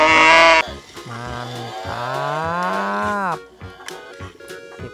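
A cow moos in a video game, two long, drawn-out lowing calls following a brief burst of game sound, loud and close, with a short spoken word near the start.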